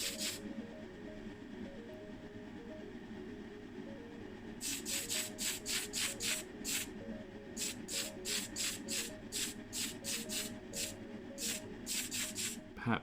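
Model parts of a Matchbox Dinkum Dumper are spray painted in bursts of short hissing sprays, a rhythmic series of close puffs over a low steady background hum.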